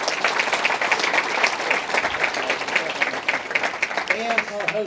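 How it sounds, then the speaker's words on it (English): Sustained audience applause fills a chamber of commerce economic outlook presentation, steady dense clapping throughout with a few voices briefly rising near the end. "Please let us give a round of applause to John and Jennifer and Jim."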